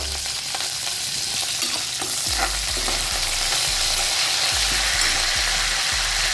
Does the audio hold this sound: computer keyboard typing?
no